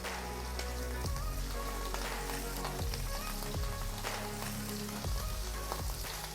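Shrimp searing in oil in a nice hot pan, producing a dense, even sizzle like steady rain, close and moderately loud, with periodic low thumps and shifts as pieces settle; no talking.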